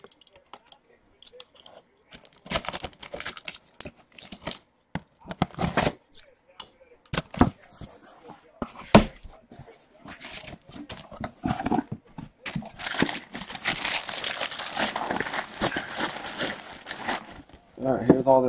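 The wrapping on a case of 2017 Tristar mini helmets is torn and crinkled open in bursts of ripping and rustling plastic, close-up, mixed with handling noises and someone talking.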